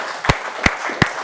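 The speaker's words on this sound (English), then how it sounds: "That's a round of applause." A short round of applause for an electrical innovation: three sharp, evenly spaced hand claps, loud and close, with no one talking.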